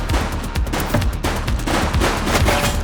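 Rapid bursts of gunfire ring out in The Precinct video game, with loud overlapping shots repeating steadily throughout.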